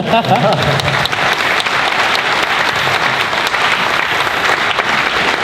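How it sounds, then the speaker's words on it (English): Sustained audience applause fills a convention panel room at PAX West 2015, a dense, steady wash of many hands clapping close and loud with no voices over it. "I think you should applaud that sentence."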